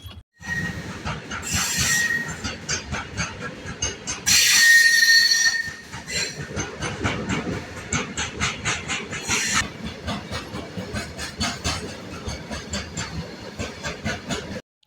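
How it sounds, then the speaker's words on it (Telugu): A passenger train pulls into a station at night, running half an hour late, with a rumbling roll of wagons, sharp wheel squeals and bursts of brake hiss, loud and near, and no voices. "ఇప్పుడు వస్తున్న ట్రైన్తో కలిపి 6వ ట్రైన్ ఇది"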